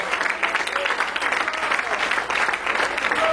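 A church congregation claps loudly together, dense continuous applause filling the room throughout with a few voices faintly mixed in.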